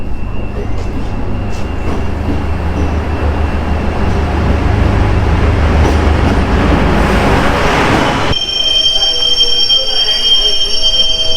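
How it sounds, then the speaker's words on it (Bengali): A DEMU train rolls into the station with a loud rumble and squealing wheels, then brakes hiss and the noise drops sharply as it stops, leaving high whines. "তো ফাইনালি এই যে ট্রেন ঢুকলো"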